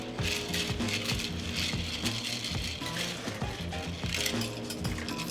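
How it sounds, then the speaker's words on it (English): A cocktail shaker filled with ice, cranberry juice and lime juice rattles continuously for several seconds, dense clattering ice at close range with no talking. "We're gonna shake it up."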